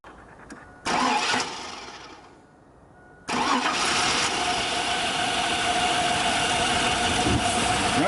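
A rat rod car engine, its exhaust clogged with dirt, cranks and catches, dips briefly, then roars into a loud, steady running rumble that continues to the end.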